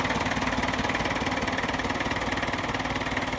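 A 1967 International Harvester B275 vintage tractor idles steadily at close range, its engine giving a continuous, even throb with a faint knocking pulse and no voices over it.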